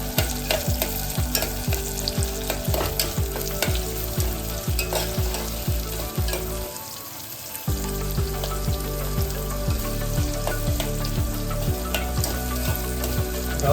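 Onion and other ingredients sizzle and fry steadily in a pan for khichdi, a loud continuous crackle with rhythmic stirring scrapes, briefly dropping away before the sizzling resumes.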